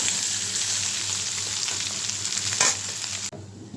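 Goat liver sizzles steadily in hot oil in a pan, a dense, even frying hiss that holds for about three seconds before cutting off abruptly near the end, with no talk.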